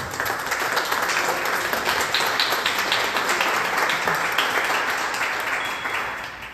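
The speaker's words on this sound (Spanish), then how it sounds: "Un aplauso para el doctor May, por favor." Audience at a binational symposium on identity and borders claps in sustained, dense applause, steady and fairly loud throughout, a full room of hands with no voices over it.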